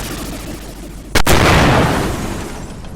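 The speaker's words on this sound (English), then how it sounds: "the explosion of the creature leaves the corner of the campsite engulfed in flames" A lava creature with magma blood bursts in a sudden explosion at a campsite, one sharp loud crack followed by a roaring rush of flame that slowly fades over a couple of seconds.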